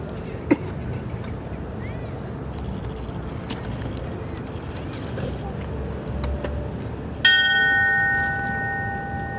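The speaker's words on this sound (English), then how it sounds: "Ringing the bell will be his granddaughter Alicia" A memorial bell rings once, loud and close, with a long shimmering decay at a firefighters remembrance ceremony in Edmonton, after several seconds of quiet outdoor murmur and faint background noise.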